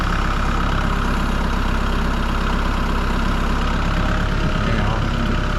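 A farm tractor engine running steadily and loudly at close range, a continuous low rumbling drone with no breaks, working near hay bales.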